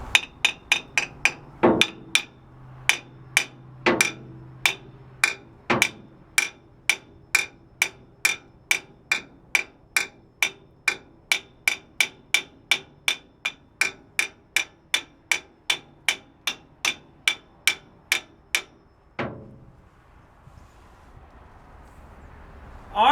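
Loud, steady hammer blows ring out on a heavy 300 lb bearing housing mounted overhead, about forty sharp metallic strikes in a regular rhythm, followed by a brief quiet stretch.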